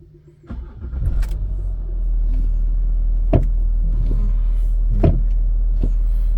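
A Ford Territory's engine cranks and starts close by with a short starter whir, settling into a steady low idle rumble with a couple of faint clicks and knocks.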